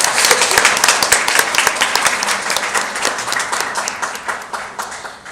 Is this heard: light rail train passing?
no